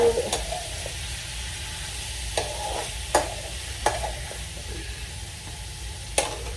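Fresh squid stirred in a frying pan, a constant low sizzle broken by several sharp scraping clacks of the utensil against the pan at uneven intervals.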